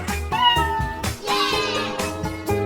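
A cat meows several times in a row, close and fairly loud, with each harmonic cry rising and falling over a light background tone.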